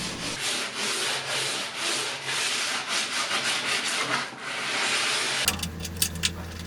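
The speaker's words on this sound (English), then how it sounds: "you'll still have to sand by hand on the little detailed edge if your table has one." A wooden coffee table edge being sanded by hand, with continuous close rubbing and scraping strokes in a steady rhythm, followed near the end by a few sharp knocks and clatters.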